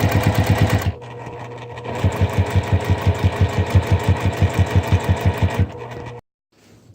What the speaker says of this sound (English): And I'm going to just sew all the way around.